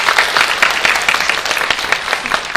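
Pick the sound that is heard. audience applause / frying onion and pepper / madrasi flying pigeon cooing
audience applause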